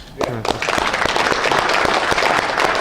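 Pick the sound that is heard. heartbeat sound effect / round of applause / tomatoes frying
round of applause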